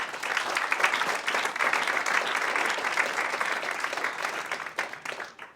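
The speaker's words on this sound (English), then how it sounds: "Round of applause for them." Audience applause for the speakers at a conservation keynote event, a steady dense clapping from a crowd that holds for several seconds before tapering slightly at the end.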